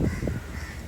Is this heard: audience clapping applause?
no